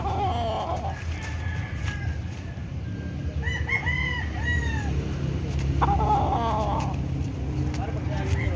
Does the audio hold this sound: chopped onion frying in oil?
no